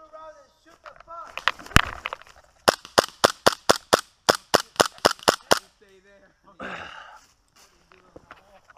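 Airsoft guns fire in a duel outdoors, a rapid series of about a dozen sharp, loud snapping shots in an uneven rhythm, with brief talk and breathing before and after the volley.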